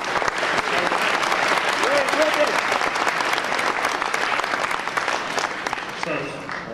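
Sustained applause from an awards banquet audience, full and even for several seconds before tapering at the end, with a voice briefly audible over the clapping.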